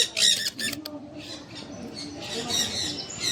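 Birds squawking and calling at Manila Ocean Park, a cluster of sharp calls near the start followed by further scattered squawks over a steady crowd murmur, with people talking nearby.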